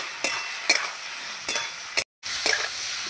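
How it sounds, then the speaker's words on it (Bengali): A spoon scrapes and stirs curry masala with elephant foot yam in a pan, several distinct close strokes over a faint sizzle, with one brief dropout. "এবার ভালো করে নাড়াচাড়া করে নেব"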